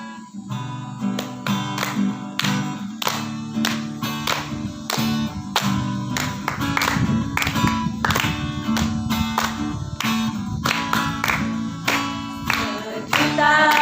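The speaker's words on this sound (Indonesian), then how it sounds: "Dengan tepuk tangan kita bernyanyi." A church audience claps along in a steady rhythm to a song, a run of sharp regular claps over music.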